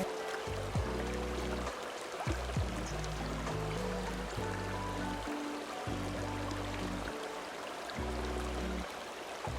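A river flows beside a natural spot in Oltenia, Romania, giving a steady, continuous rush of water throughout, with low tonal hum and rumble layered underneath.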